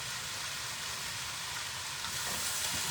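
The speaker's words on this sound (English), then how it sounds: "It's sizzling away." Chickpea and cabbage curry sizzles steadily in a pan, a constant close hiss of frying with no talk, slightly louder toward the end.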